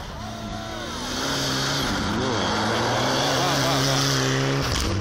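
A rally car's engine sweeps past close by, its pitch rising and falling before settling into a loud, steady roar that lasts to the end.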